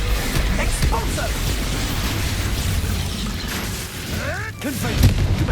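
Expulso blasting-spell explosions and magical combat effects in the Hogwarts Legacy video game, loud booms and bursts under a dense game soundscape, with a voice talking over it.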